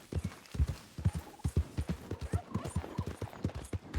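Horse hooves gallop in Red Dead Redemption 2, a quick, steady clip-clop rhythm of hoofbeats repeating evenly at moderate loudness.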